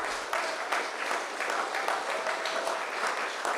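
A townhall audience at a school applauds a political leader and candidates, giving steady, dense crowd clapping that holds at an even level for the whole stretch, with a faint voice or two mixed underneath.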